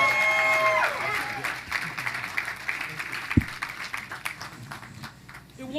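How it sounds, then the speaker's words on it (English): Scattered applause ripples through an audience at a legislative conference, rising after a voice over loudspeaker and thinning into intermittent claps amid crowd murmur. "Let's give another round of applause for"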